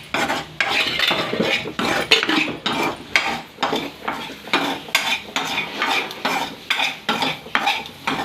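A utensil stirs and scrapes egg fried rice around a pan in a steady, rhythmic series of close metallic strokes over a faint sizzle, with no talking.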